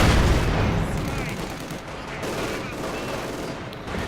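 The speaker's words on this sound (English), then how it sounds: "2 light machine guns. Combat is caught out in the open here, taking a punishing volley" Light machine gun fire in Company of Heroes 2 during a 1v1 match, dense rattling bursts and distant booms layered continuously, loudest at the start, beneath a commentator talking throughout.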